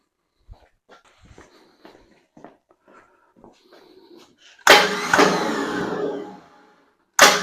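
A Ford 289 V8 in a 1973 Mercury Comet whose starter motor fails to engage the flex plate: faint clicks and knocks, then a loud harsh whirring grind for about two seconds, then a brief burst again at the end.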